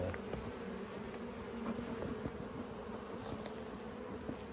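Honeybees buzz steadily around a hive while being moved from a nuc into a brood box, a close, continuous insect drone with scattered handling knocks.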